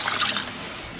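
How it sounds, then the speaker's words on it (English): Water poured from a measuring cup into a pot for cooking rice with chicken bouillon and butter, a short, close, bright splashing rush lasting about a second. "And now I have 2 cups of water that I'm going to add."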